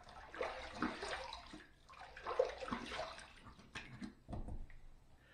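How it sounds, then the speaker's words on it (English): Water running and splashing as a safety razor is rinsed after shaving, with irregular bursts of flow and drips, fairly quiet and close, no talking. "All right, let's rinse."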